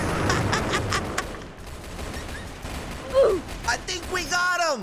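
Rapid gunfire rattles in the Roblox game Brookhaven RP, a loud burst of quick repeated shots at the start that thins out, followed by excited speech.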